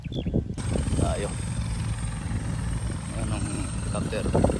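A helicopter's steady low rotor drone fills the background, with people talking over it.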